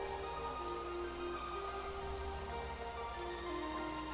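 Steady rain ambience from a Touhou ambient track, a continuous dense patter of rain on leaves and ground with a soft underlying drone, even and unbroken throughout.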